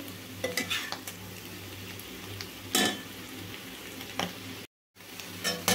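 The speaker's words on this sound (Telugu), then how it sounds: "మీడియం ఫ్లేమ్లో పెట్టుకొని నిదానంగా కలుపుకుంటూ మంచి కలర్ వచ్చేదాకైతే వేయించుకోవాలండి" Baby potatoes frying in a pan on a medium flame, a continuous close sizzle broken by several scraping stirs of a utensil against the pan, with one brief gap.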